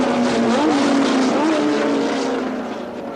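Formula One race car engines at the 1978 Argentine Grand Prix roar loud and close, a continuous high-revving whine with shifting pitch as cars pass, fading slightly at the end.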